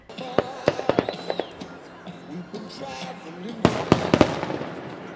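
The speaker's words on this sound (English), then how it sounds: "the spectacular fireworks display over the York River." Sharp firework bangs and crackles pop in irregular bursts over the York River, with a cluster of louder blasts near the end, while a crowd murmurs and people talk.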